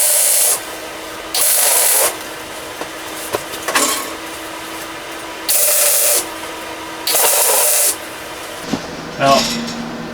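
A welder tacks the mounting tabs for a Hot Dawg 60,000 BTU heater, giving four distinct loud hissing, crackling bursts of about a second each, separated by quieter pauses with small clinks.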